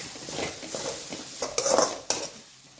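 A spoon scrapes and stirs tomato rice in a covered pot set on low heat, giving short, close, soft scraping strokes over a faint sizzle, with a couple of sharper clinks near the end.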